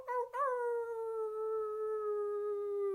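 A person imitates a wolf howl, one long sustained, wavering howl that rises briefly at the start and then holds steady, close and clear, at the end of a team meditation.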